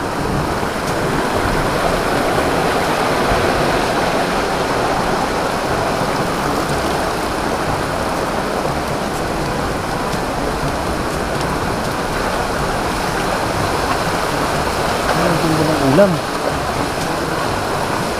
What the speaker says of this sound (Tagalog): Ito, lakas ang tubig oh.